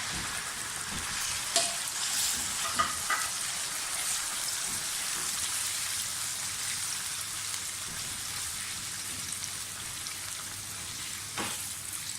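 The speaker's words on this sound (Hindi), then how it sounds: "पहले हम इसमें जो हमारा चिकन का कीमा है इसको फ्राई करेंगे" Chicken mince (keema) frying in a pan, a steady soft sizzle with occasional pops and stirring scrapes, continuous and close.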